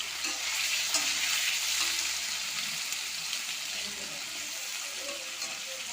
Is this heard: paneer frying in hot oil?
yes